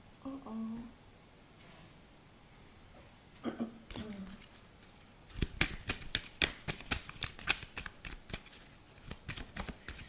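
A deck of oracle cards is shuffled in quick riffling bursts, close and crisp, following a few soft handling sounds and brief speech at the start.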